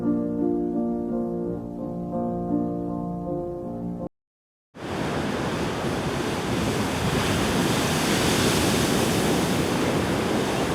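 Tsunami floodwater rushes past in a loud, unbroken roar, like heavy surf with wind buffeting the microphone, coming in after a brief tonal passage and a moment of silence.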